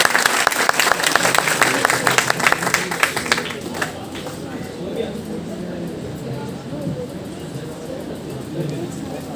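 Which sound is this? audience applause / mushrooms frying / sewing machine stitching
audience applause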